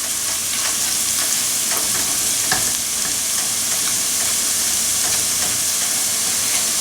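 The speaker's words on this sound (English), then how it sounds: "stirring of the paste, just enough so that it starts to flavor the oil." Curry paste fries in a generous amount of oil for a chickpea and potato curry while being stirred, making a loud, constant close-up sizzle and hiss with scattered scraping ticks.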